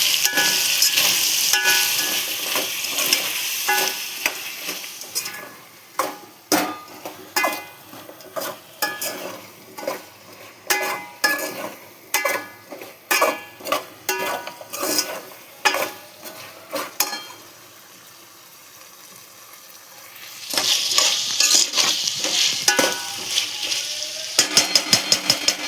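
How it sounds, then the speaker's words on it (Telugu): A spoon stirs veg biryani with fresh mint and coriander in a frying pan, giving repeated scraping strokes over a soft sizzle, with louder continuous frying toward the end. "మంచిగా మిక్స్ చేసుకుందాం."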